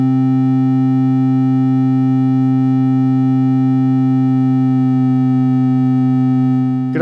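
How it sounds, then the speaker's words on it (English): Two Eurorack oscillators, a Zephyr and an XPO, drone together as a steady, loud harmonic tone, slowly detuning against each other so a beating pulse develops; the tone stops abruptly at the end. "what I want you to listen to now is the beating that's going to occur as I slowly take the Zephyr out of tune with the XPO"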